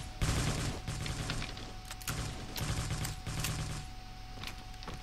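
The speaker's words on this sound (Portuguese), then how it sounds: "Eu tô sentindo tiros pra cá, eu só não tô vendo da onde que tá vindo" Gunfire in the battle royale video game Cyber Hunter, repeated bursts of rapid automatic shots in quick groups with short gaps between them, fairly loud and with no talking.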